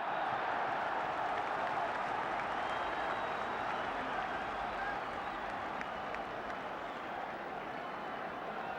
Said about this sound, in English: The crowd giving Wolves the encouragement they need